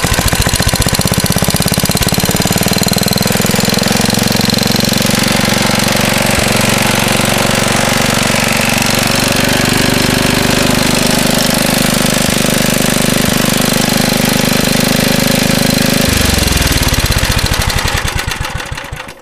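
A 1963 Wheel Horse garden tractor's small engine fires up and runs loud and close, a harsh rapid chugging roar that holds steady for many seconds before abruptly cutting off and dying away near the end.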